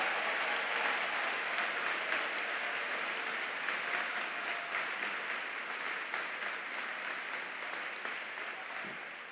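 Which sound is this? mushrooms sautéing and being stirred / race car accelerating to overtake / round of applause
round of applause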